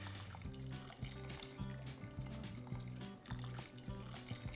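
Measured water pours steadily from a jug into a pressure cooker of moong dal khichdi, a continuous splashing, gurgling flow heard close up with no talking.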